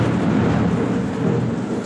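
Deep, continuous rumbling of thunder blended with the broad hiss of steady rain during a nighttime storm, loud and enveloping with no voices present.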